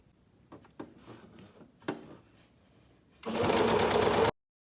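A Singer Starlet 6660 sewing machine runs a straight stitch through fabric in one steady, loud burst lasting about a second, after a few quieter handling clicks and thumps.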